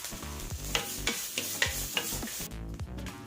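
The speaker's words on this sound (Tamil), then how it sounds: "தேங்காய் துருவலையும் வறுத்துக்கிறேன்" Grated coconut roasts in a dry pan with a soft, fairly quiet crackle. Regular spatula scrapes and taps come roughly every half second, and the sound thins out near the end.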